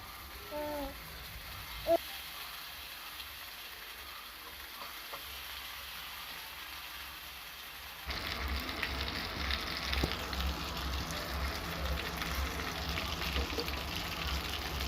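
Chicken wings cooking in a little oil in a pan over a low flame. The pan is quiet at first, then a steady, close sizzle begins midway and continues to the end.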